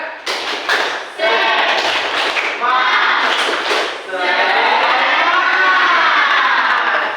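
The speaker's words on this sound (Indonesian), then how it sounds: "Tepuk semangat." Classroom group performs tepuk semangat, a rhythmic patterned clapping routine, with bursts of claps at the start giving way to children chanting loudly together.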